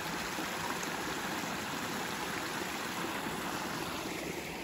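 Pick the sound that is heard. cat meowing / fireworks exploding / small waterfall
small waterfall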